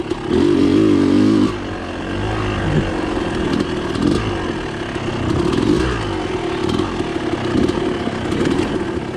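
A two-stroke dirt bike rides a tight single-track trail, its engine revving loud and close with a sustained high blast at first, then easing and rising again through rough, clattering terrain.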